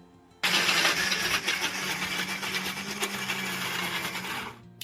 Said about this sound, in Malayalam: ഇനിയിപ്പോൾ ഇതുകൊണ്ട് മിക്സിയിൽ അടിക്കാൻ പോവുകയാണ്